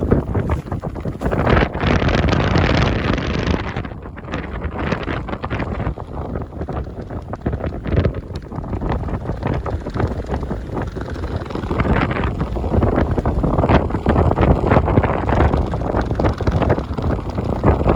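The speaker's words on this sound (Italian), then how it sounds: "Ho quasi paura che mi voli via il telefono dal vento." Strong wind batters the microphone on the summit of Monte Campomolon, a continuous loud roar with gusting surges and dips across the whole stretch.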